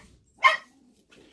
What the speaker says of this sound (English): I'm starting this video off with my puppy.